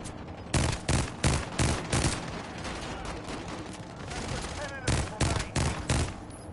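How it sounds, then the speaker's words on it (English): Bursts of rapid automatic gunfire in Call of Duty Warzone on Rebirth Island, loud and close, with several volleys of shots separated by short pauses and a later cluster near the end. "Keep shooting them."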